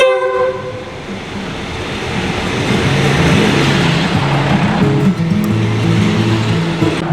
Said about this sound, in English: Okay, the train is here.